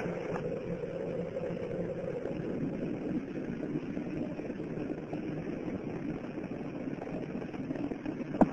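The Space Shuttle Challenger's main engines roar during launch as a steady, dense, broadband rumble that holds at an even level throughout, heard from a distance without talking.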